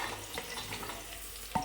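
Carrot and potato pieces frying in oil in a pan, a steady soft sizzle with small crackles and one brief knock near the end.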